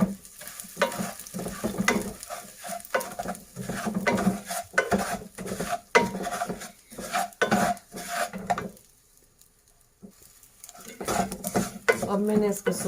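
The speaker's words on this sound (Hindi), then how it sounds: "अब इसमें मैं ये जो गूंद ली थी उसको मैं स्लो फ्लेम पे फ्राई करूंगी।" Edible gum frying in melted ghee over a slow flame, with a steady sizzle punctuated by frequent scraping and stirring of a spoon against a metal pan, briefly quieting midway before resuming.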